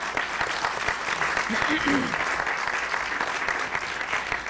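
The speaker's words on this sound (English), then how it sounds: "Let's give them a round of applause." Luncheon guests give the league's founding players a round of applause, a steady wash of crowd clapping with a faint voice briefly underneath.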